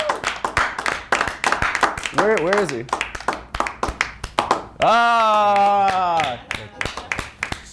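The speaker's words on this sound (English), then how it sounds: "Clap it up!" An audience claps in sharp, irregular bursts for an arriving guest, the handclaps mixed with talking voices, exclamations and a drawn-out vocal shout.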